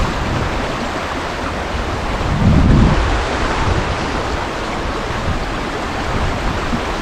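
Steady, loud rush of a brook flowing outdoors, a continuous broadband wash of water heard close by, with a brief low rumble swelling partway through.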